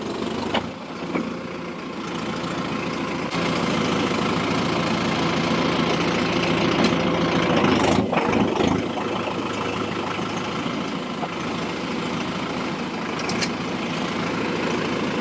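Tractor engine running in first gear on a 15+15 gear machine, a steady close mechanical drone with a brief rattling clatter midway, heard alone with no talk.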